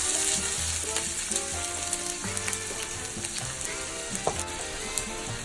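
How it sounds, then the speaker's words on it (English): Onions sizzle and fry steadily in hot oil in a caldero or large pot for Puerto Rican pork filling, a close, continuous crackle with scattered spoon clinks and scrapes against the pot. "Next, we're going to add the onions,"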